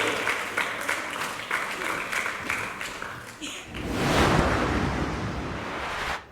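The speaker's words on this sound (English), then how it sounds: "Round of applause" A studio audience at a Welsh talent-search singing contest claps while a host talks over it, and the clapping swells into a loud, dense roar of applause near the end.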